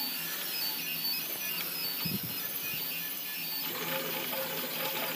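A five-color 3D printer running at 40 mm/s, a continuous whirring motor drone with a soft low thump partway through.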